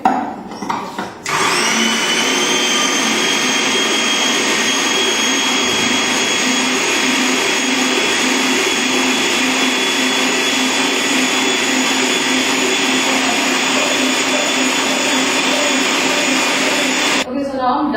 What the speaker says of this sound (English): now I'm done mixing with my cheese filling